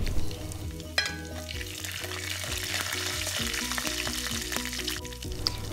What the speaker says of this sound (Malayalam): ഒരു ചെറിയുള്ളി നൈസായിട്ട് അരിഞ്ഞതും 3-4 വറ്റൽ മുളക് ഇട്ട് ഒന്ന് ഇളക്കി കൊടുക്കാം.